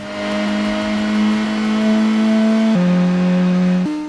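A car engine from the 1997 racing game Gran Turismo revs steadily with a buzzy, synthetic drone, its pitch stepping up then dropping sharply before climbing again, loud and close with no talking.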